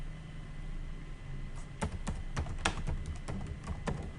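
Keystrokes on a computer keyboard while entering text into an MS Word document, a sparse run of separate clicks starting quietly then growing more distinct, over a steady low background hum.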